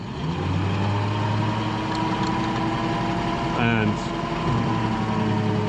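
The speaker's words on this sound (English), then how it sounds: "I'm gonna spin it up to about 1500 RPM" A 48V electric tractor motor spinning up in neutral toward about 1500 RPM, giving a steady whine with rising tones beneath a constant hum, while a voice briefly speaks.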